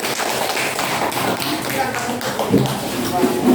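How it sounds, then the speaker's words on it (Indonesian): Classroom students clapping for a group after its presentation, a steady patter of many hands close by, with some voices murmuring underneath. "Tepuk tangan dulu untuk kelompok 2"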